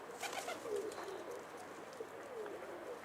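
Pigeons or doves cooing in a low, repeated warble, several calls overlapping at moderate distance with a faint airy background.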